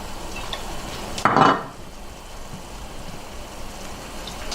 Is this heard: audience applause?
no